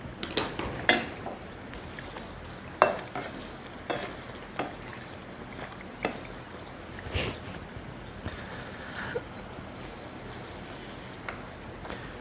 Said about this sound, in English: Grab my other utensil here to help me turn this.